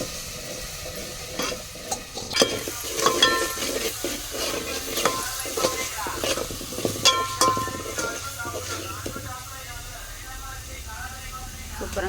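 Onion paste fries in a pan, with a soft sizzle broken by scraping stirs and spoon clinks, near and moderate, while a person talks over it.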